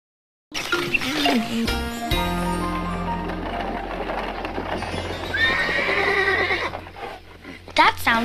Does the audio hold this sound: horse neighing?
yes